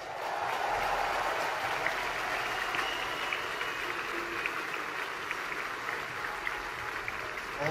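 A concert crowd in a large arena hall applauds for the bass guitarist, producing a steady, moderately distant wash of clapping with faint crowd noise that continues evenly throughout.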